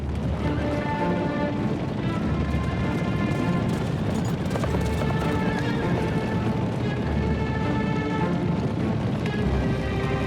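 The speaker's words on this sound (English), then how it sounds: "The US cavalry frees its horses." Horses freed by US cavalry in spring 1945 whinny repeatedly over a dense, loud bed of clip-clopping hooves, with a busy crowd of animals milling close by.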